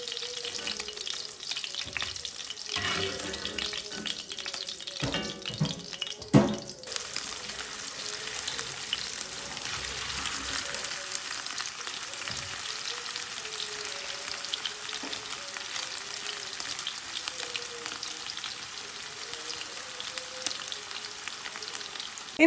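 Strips fry in a pan over a medium flame, giving a continuous crackling sizzle close by, with a few clinks and stirring knocks early on before the frying settles into a steady hiss.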